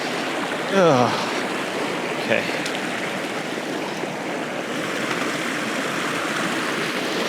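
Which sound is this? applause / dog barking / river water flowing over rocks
river water flowing over rocks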